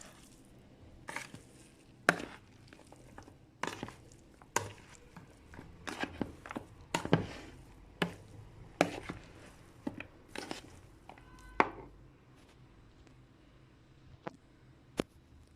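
Potato salad being stirred and mixed in a bowl after the dressing goes in, giving a string of moist squishing and clinking strokes at an uneven rhythm, close by with no talking.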